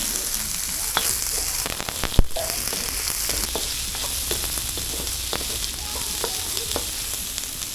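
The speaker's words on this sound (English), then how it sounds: "Pimento and hot pepper. Nice. Let that saute there" Pimento and hot pepper sautéing with onion in a pan for fried rice, a loud continuous close sizzle with occasional stirring clatter and a sharp knock near the middle, no talking.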